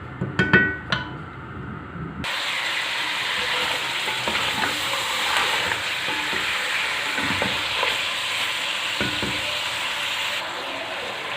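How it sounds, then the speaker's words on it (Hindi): About 1.5 kg of chicken drops into hot oil in a pot and fries with a loud, steady sizzle, after a few brief clinks and stirring knocks at the start. No one speaks. "अब चिकन को हम ऑयल के अंदर फ्राई करेंगे"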